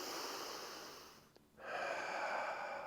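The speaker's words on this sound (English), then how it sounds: "5 breaths." Slow, steady breathing during a yoga crescent lunge, a long soft exhale fading down, a brief pause with a small catch, then a fuller airy inhale, close and alone.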